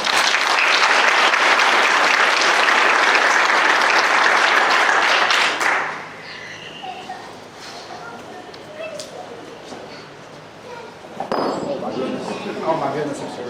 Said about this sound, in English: So one more round of applause for Jamie.